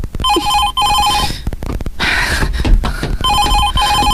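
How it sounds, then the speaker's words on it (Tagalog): A loud telephone bell rings in rapid trilling bursts, pausing briefly between rings, close by with some background clatter. "Mibagping man ang telepono."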